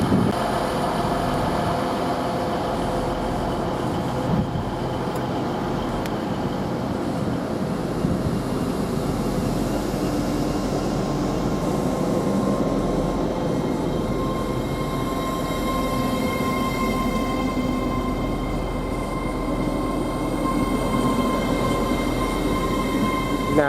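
A train departs a railway station in Doncaster, rumbling and rolling steadily past at close range, a continuous loud clatter of wheels on rails with a faint hum underneath.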